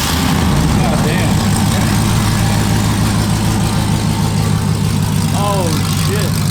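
A GMC Sierra Denali truck with a 5.3 V8, long tube headers, catless pipes and a Flowmaster Super 10 muffler idles close by with a loud, steady, deep burbling exhaust rumble throughout, with a voice talking briefly over it.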